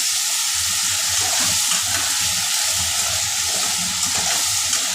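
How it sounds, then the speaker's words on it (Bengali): Cumin paste, chili paste and turmeric fry in a pan with a steady, close hissing sizzle and faint bubbling crackle running evenly throughout. "এগুলো এখন একটু ভাজা ভাজা হতে দিব"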